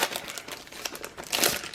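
A paper pack crinkles and rustles up close as it is handled during a Spellbinders craft kit unboxing, a dense run of crackles swelling near the end with no talk.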